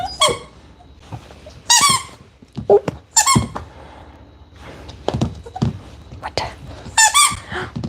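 A dog's squeaky toy squeaks in several sharp, loud bursts spread across the stretch, with thumps and scuffling between them during a puppy training session.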